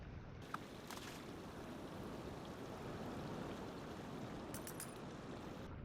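Flowing water in Minecraft streams steadily as it pushes a block along, a continuous soft rushing wash with a few faint clicks over it, fairly quiet.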